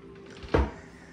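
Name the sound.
coffee table lid opening for storage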